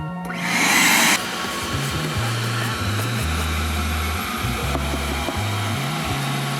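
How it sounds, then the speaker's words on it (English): A vacuum cleaner roars steadily, its motor pitch dipping and rising as it is pushed back and forth over carpet. "first let me quickly vacuum this up"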